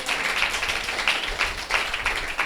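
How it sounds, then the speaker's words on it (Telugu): A church congregation clapping loudly together, a dense, continuous patter of many hands with rhythmic surges, close and full. "ఒప్పుకుందాం, గట్టిగా చప్పట్లు కొట్టండి."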